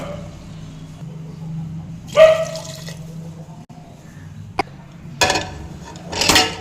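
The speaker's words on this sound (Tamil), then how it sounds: "இந்த காய் முழுகிற அளவுக்கு தண்ணி சேர்த்துக்கலாம்" Water splashes into a metal pressure cooker over vegetables in a few short pours, with clinks of a utensil and quiet pauses between.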